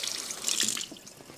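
Jalapeno peppers rinsed under a running kitchen tap, a bright close splash of water that swells briefly then eases off, with no voices.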